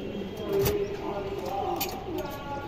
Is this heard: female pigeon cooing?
yes